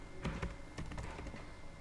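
Short bursts of keystrokes on a computer keyboard during coding, a quick cluster of close, faint taps followed by a few more.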